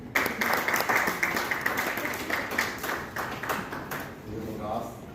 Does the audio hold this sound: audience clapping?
yes